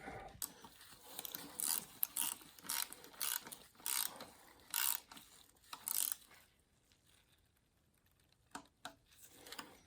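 A 1/4-inch torque wrench tightens the intake on a Porsche Boxster 2.7L engine, giving faint clusters of quick ratcheting clicks in short bursts, pausing, then a few last clicks.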